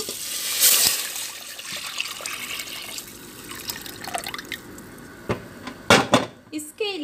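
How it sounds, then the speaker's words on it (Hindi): Chicken stock being poured into a pot for Chinese chicken corn soup gives a brief liquid splash and dribble, with some clinking of pots and utensils in a home kitchen. A few sharper knocks follow near the end. "पहले अब हम इसमें यखनी ऐड कर देंगे।"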